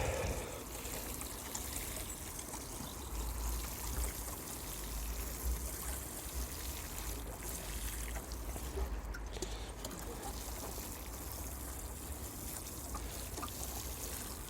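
Water pours and trickles steadily onto freshly planted bulbs in an allotment garden, a soft continuous splashing and gurgle, fairly faint and alone.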